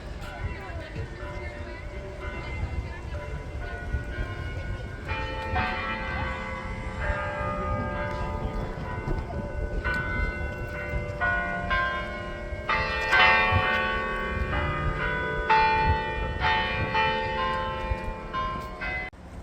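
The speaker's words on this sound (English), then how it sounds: "there are bells in that tower." Carillon bells peal from a tower at Christmas in overlapping ringing tones, continuing for a long stretch over background crowd murmur and occasional voices.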